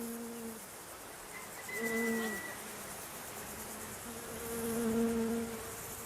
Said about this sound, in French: Aucun pesticide ne vient perturber les abeilles de Ryumonji.